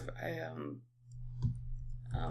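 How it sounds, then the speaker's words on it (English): A few sparse keyboard clicks tap nearby on a podcast recording, following a stretch of someone talking, with light room noise between the clicks. "He's typing stuff and it's throwing me off."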